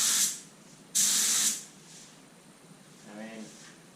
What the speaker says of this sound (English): Normally you do a little more air pressure with clear coat, so gonna adjust the gun a little bit and then start spraying.